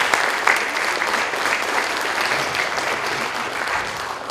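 A crowd applauds steadily at a Rochester High School band concert, honoring students from a solo and ensemble event; the dense clapping stays loud and even throughout with no voices on top.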